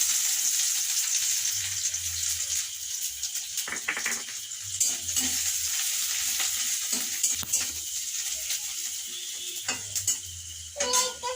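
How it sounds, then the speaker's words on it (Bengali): Onions frying in oil in a home kitchen pan, a continuous loud sizzle broken by several clanking stirs and scrapes of a utensil against the pan, no talking. "আমি পেঁয়াজটা ভেজে নিচ্ছি"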